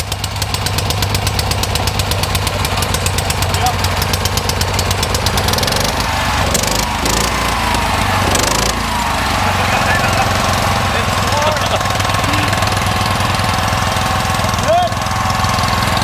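An old Wheel Horse lawn tractor engine chugs steadily nearby while towing a Subaru, a continuous rough knocking drone that runs throughout, with people talking over it.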